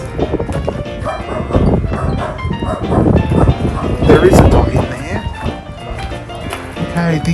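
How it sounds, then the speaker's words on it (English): A dog locked in a bathroom in the town of Terowie, Australia barks repeatedly from behind a door, with the barks mixed under someone talking nearby. "dog locked in bathroom."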